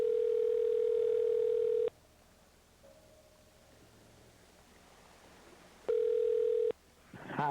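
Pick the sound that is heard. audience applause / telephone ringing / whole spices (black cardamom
telephone ringing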